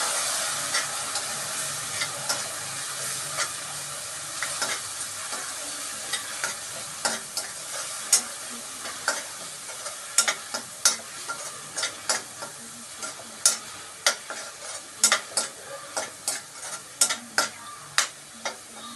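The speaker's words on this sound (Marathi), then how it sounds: "छानपैकी हलवून घेऊया." Hyacinth bean curry frying and being stirred in a pan, a continuous close sizzle with regular spatula scrapes that grow more rhythmic and pronounced toward the end.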